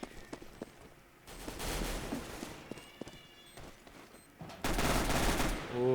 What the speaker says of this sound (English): He's got the AK-47 now.